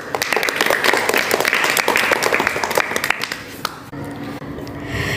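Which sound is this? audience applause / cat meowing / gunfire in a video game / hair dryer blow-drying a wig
audience applause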